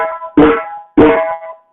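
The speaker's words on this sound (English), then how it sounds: "if we hit at the edge of the instrument, that's called the tone sound, which is the open sound." Two open-tone djembe strokes struck at the edge of the drumhead, each a sharp, ringing hit that fades over about half a second, played close up with nothing else sounding.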